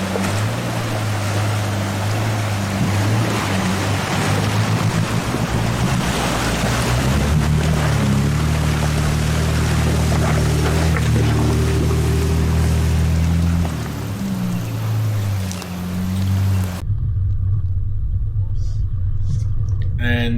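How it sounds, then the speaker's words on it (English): A four-wheel drive Toyota Prado crossing the Macalister River in the Victorian High Country, its engine rumbling steadily under rushing, splashing water, then cutting to quieter outdoor sound near the end. "Matt bringing the trusty Prado across the river there."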